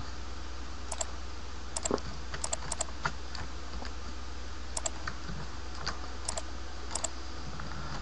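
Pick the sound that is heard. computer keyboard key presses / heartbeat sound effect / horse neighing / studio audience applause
computer keyboard key presses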